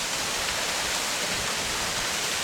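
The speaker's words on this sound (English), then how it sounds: "There's a waterfall right here." A waterfall in the Blue Mountains roars as a dense, continuous rush of falling water, loud and close, with no voices.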